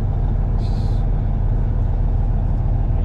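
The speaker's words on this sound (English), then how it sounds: "This is a truck. Sounds like a truck, looks like a truck, acts like a truck." A dirty work truck idling, its engine a steady low rumble that stays loud and constant, with a brief hiss of air near the start.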